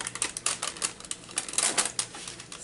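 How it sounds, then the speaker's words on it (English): Small embroidery scissors snip through junk mail paper close up in a quick series of crisp, uneven cuts, with no voices present. "I'm going to use my embroidery scissors."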